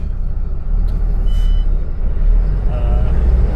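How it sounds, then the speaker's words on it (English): Road traffic jam with trucks, a heavy low rumble of idling engines close by, a brief hiss like an air brake and faint beeping in the background. "we are currently in a traffic jam almost"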